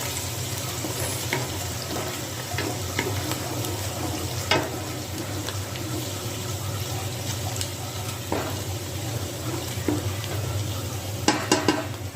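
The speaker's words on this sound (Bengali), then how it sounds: "তেলটা গরম হয়ে গেছে, এখন পেঁয়াজ বেরেস্তা করে নেব" Onions fry in hot oil for chicken biryani, a steady close sizzle with occasional spatters and stirring clicks running continuously throughout, no talking.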